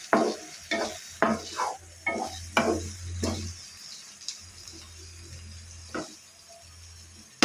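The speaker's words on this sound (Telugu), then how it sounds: "ఒకసారి మూత తీసుకొని కలుపుకోవాలి" A spoon stirs drumstick and cashew masala curry in a pan, giving a series of sharp scraping strokes and clinks with a soft sizzle between them, close and without talk.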